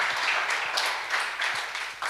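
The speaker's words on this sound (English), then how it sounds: "One more round of applause for Itai." Applause from a conference audience for a speaker, a steady wash of clapping spread across the room, fairly even in loudness throughout and with no voices over it.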